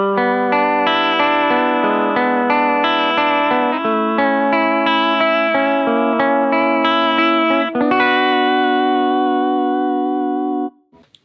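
Electric guitar played through an Emperor chorus pedal, a steady run of shimmering, wavering chords and notes lasting about ten seconds before cutting off abruptly.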